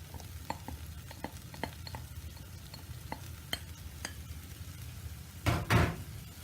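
Tomatoes going into a pan of fajita filling over low heat and being stirred, with a steady run of spoon scrapes and clinks against the pan and a louder clatter near the end.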